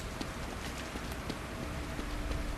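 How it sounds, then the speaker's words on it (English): Rain falling in the horror game The Evil Within: a steady hiss of raindrops with scattered light ticks throughout, with no voice over it. "Wait a minute, raindrops."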